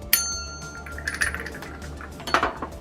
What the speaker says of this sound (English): the bell is, as you can hear, pretty loose